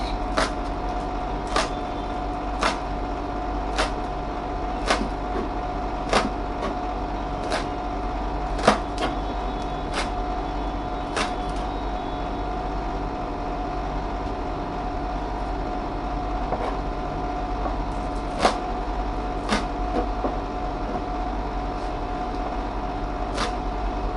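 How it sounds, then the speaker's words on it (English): A knife chops spring onion leaves on a board in sharp, irregular taps, sometimes in quick pairs, over a steady low background hum, with no talking. "Now let's cut the onion leaf."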